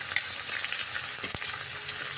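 Spice paste of ground cumin, ginger and garlic with green chilli, cardamom and cinnamon fries in hot oil in a pan, giving a steady dense sizzle with a short stirring scrape midway.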